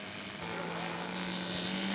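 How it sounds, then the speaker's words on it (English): A scale model Spacewalker airplane taxis out, its propeller engine giving a faint, steady buzzing drone with a slowly rising pitch, heard at a distance over light background noise. "Doug Butcher taxiing out for his second flight of the day."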